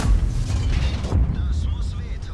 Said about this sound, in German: AMX-50B hat mich nochmal getroffen.